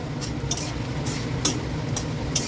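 Whole cardamom, cinnamon, clove, cumin, dried red chili and bay leaf stirred in a pan with a steady low sizzle, and a few soft scraping strokes come back at irregular intervals.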